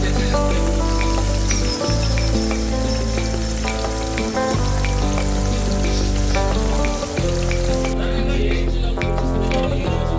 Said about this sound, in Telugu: ఉసిరికాయలు మరీ నల్లగా కాకుండా ఇంకా గోల్డెన్ కలర్లో వచ్చేటట్టు వేయించుకోవాలి